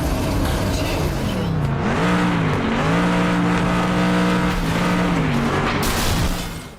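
Cars race in the demolition derby game FlatOut 2, with loud engines revving up and down through gear changes, tires squealing, and brief impact noise near the end.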